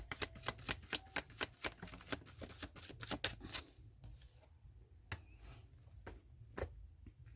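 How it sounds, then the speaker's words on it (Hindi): A deck of tarot cards is shuffled once in a rapid run of crisp, close flicking clicks lasting a few seconds, followed by several sparse, isolated card snaps in a quiet room. "Single shuffle."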